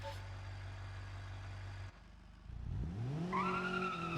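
A small student-driver hatchback in BeamNG idles with a steady low engine hum, cuts off briefly, then accelerates with rising engine pitch and shifting tones, up close and with no talk.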